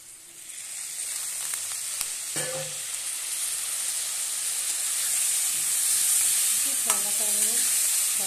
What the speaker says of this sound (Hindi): मसाला पका लेंगे।